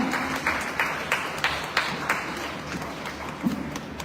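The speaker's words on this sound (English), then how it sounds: "Let's give a thunderous clap to this man." Applause greets the Vice President of Sierra Leone at a government printing department relaunch ceremony. Scattered, moderately loud clapping with distinct individual claps and thumps repeats rhythmically over a hall's background hum.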